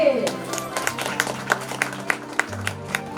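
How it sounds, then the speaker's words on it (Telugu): Audience at a Telugu family gathering breaks into applause, scattered claps rising over a steady background of voices and music, moderately close and irregular in rhythm. "క్లాప్స్ కొట్టండి"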